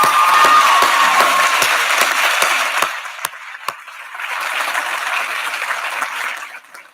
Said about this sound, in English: So I just want to take a moment and give a round of applause for